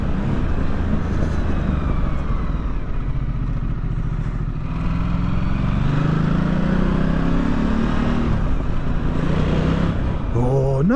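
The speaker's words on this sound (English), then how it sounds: "Right, listen to this engine." A 2020 Ducati Multistrada 1260 S Grand Tour engine runs loud and close throughout, its pitch rising and falling as it revs, with a brief burst of noise near the end.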